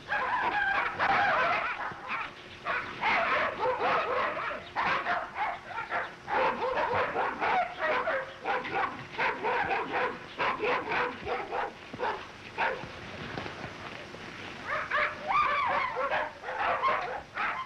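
Several dogs near unloaded wagons in Africa bark, yip and whine almost without pause, a loud and excited chorus close by that surges and dips for well over fifteen seconds.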